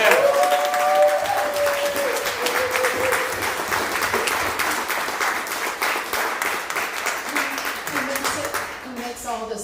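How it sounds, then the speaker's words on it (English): An audience applauds for Christina Burrell at an artist talk, steady dense clapping filling the whole stretch with a brief voice near the start, tapering slightly toward the end. "I think we all owe a really big round of applause to Christina"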